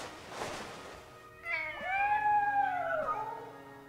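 A cat howls in the video game Dead Synchronicity, a drawn-out wavering yowl that rises and bends in pitch for about two seconds, clear and fairly close after a brief rustle.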